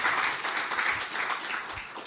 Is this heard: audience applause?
yes